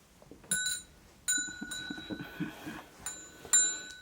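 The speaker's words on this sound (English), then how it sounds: "it's a dragon with a bell and a swing, Buddha on a swing" Small bell on a dragon ornament with a Buddha on a swing rings in several bright, sustained chimes, struck about four times with quieter rattles of the swing in between, close and clear.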